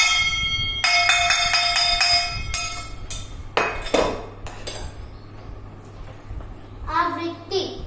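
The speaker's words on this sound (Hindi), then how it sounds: "ये चम्मच है, जब मैं इसे बजाऊं तो ये हवा में संचालित होकर मेरे कानों तक पहुंचेगी" A metal spoon struck against a plate, rapid ringing clinks in a quick cluster, then scattered single taps and a few softer knocks, close and bright.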